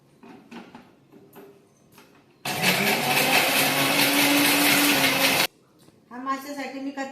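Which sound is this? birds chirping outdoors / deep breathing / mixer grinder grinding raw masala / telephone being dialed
mixer grinder grinding raw masala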